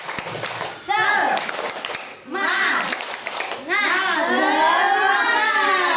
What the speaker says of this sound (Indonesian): Oke, tepuk semangat dulu aja kita ya. Tepuk semangat.